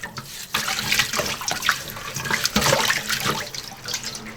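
Running tap water splashes over pork belly skin in a sink as it is scrubbed clean, a close irregular gushing with bursts of splatter.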